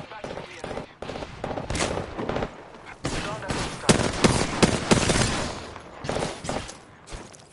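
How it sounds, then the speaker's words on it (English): Gunfire in a final battle of Apex Legends Season 5 played as Wraith: repeated automatic bursts and single cracks, loud and near, with heavier volleys midway and voices mixed in. "I'm getting shot at."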